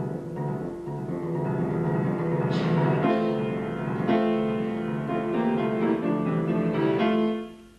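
Orchestral excerpt of the bogatyrs theme from Rimsky-Korsakov's Tale of Tsar Saltan, the Three Wonders section: a full, sustained ensemble with brassy repeated accents over steady lower voices, loud and continuous before fading out at the end.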